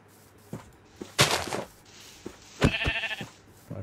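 Sheep in the Minecraft video game bleat in a couple of short, nasal cries against sparse game sound effects, with no talking.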